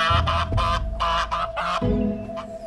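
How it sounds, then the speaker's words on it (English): Farm geese honk and cackle loudly and close, several harsh repeated calls in quick succession with brief gaps. "And last, but not least, the geese."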